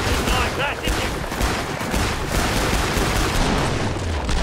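Dense, continuous gunfire from shooting zombies in the video game Killing Floor 2, a loud unbroken stream of shots that fills the whole stretch, with voices mixed in underneath.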